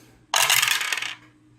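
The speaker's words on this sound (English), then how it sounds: "I'm going to roll 2 dice and subtract 1 from both rolls." Two dice are thrown onto the table during a Magic Realm board game, a single quick rattling clatter lasting under a second before quiet returns.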